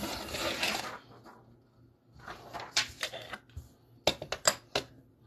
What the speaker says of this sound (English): I'll just type in there.